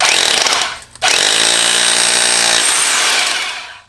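ENEACRO SDS-Plus rotary hammer drill boring holes to mount weight plate holders, a loud, close, steady hammering whine that runs, breaks off briefly, then continues and tapers away.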